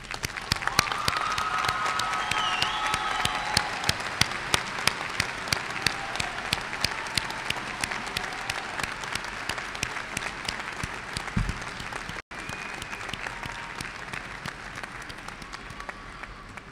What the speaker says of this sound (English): join in a round of applause to congratulate the class of 2013